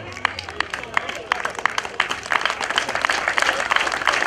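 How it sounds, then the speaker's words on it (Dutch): Crowd applause welcoming hockey players as they enter at a club clinic day, scattered claps building into denser clapping with some background chatter. "Graag onder luid applaus naar binnen halen."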